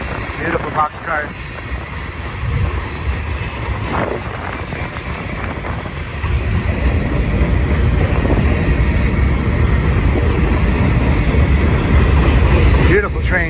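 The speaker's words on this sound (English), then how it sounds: "Nice mixed freighter. A lot of old box cars." BNSF mixed freight train of old boxcars, gondolas and hoppers rolls past at Blue Cut, Cajon Pass, a loud, continuous rumble and clatter of wheels growing heavier, with wind buffeting the microphone and someone talking over it.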